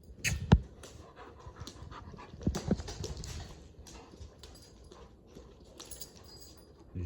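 Big dogs play and pant close by, with quick rhythmic breathing, scrabbling paws and a few sharp knocks and thumps scattered across the clip, fairly quiet overall and without talk.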